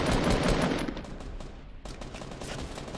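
Rapid bursts of Fortnite gunfire crackle loudly, then thin into scattered shots and a fresh flurry of fire.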